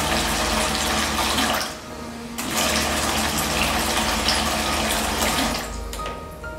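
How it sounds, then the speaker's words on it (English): A double-head nozzle filling machine dispenses liquid into bottles with a loud, continuous rush of flowing liquid and a mechanical hum, briefly dipping about midway before the steady gush resumes. "it fills automatically one bottle after another"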